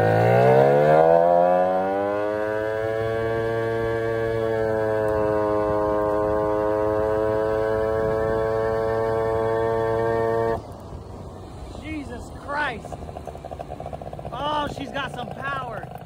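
Vento Triton R4 motorcycle engine, carburetor being tuned, revs up hard from idle and holds a loud, buzzing high rev for several seconds before cutting off, then idles unevenly with small throttle blips.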